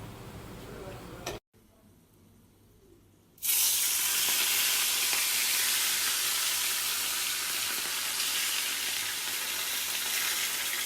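Jamaican steamed fish with okra in coconut milk cooks in a pot on the stove, giving a loud, steady broadband sizzle and hiss after a brief quieter moment with a short dropout.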